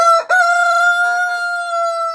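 A black Faverolles rooster crows loudly and close, a single long drawn-out call with a brief break near the start, then a sustained strained note.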